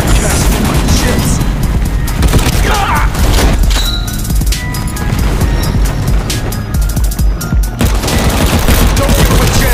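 Dense, constant gunfire and explosions from the World War Heroes video game fill the whole stretch loudly, with bursts of automatic fire and booming blasts layered thickly together.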